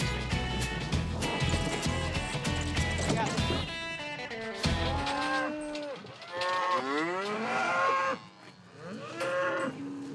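Several cows of a Montana herd being gathered for vaccination moo loudly and repeatedly, long drawn-out calls overlapping one another up close over a busy background of shuffling and movement.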